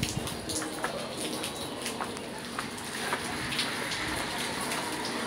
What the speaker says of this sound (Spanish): como está lloviendo, pues hay mucho río